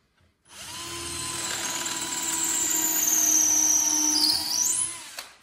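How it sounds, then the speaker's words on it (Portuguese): Power drill boring a screw hole in wood for a shelf, a single sustained high whirring run of about five seconds that builds slightly in load before spinning down, close and alone. "Furo, escarei e vou colocar o parafuso, tá?"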